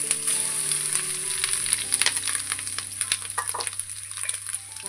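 Grated coconut filling for village-style pithe fries in a pan with bay leaf and cardamom, giving a steady close sizzle broken by scraping stirs and small clinks, with a low background hum and no talking.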